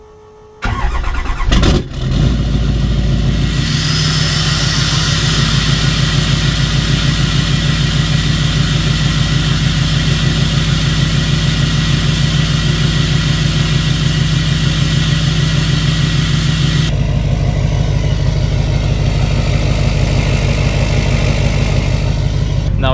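A straight-piped Duramax diesel truck engine cranks and fires after a short whir, then settles into a loud, steady, rumbling idle recorded right at the exhaust tip, with a slight shift in tone near the end.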